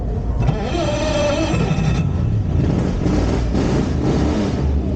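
A 1952 Ferrari 340 Mexico race car's engine revs up close and loud, a rough, rumbling tone rising in pitch before dropping, with the deep roar continuing under a couple of short throttle blips.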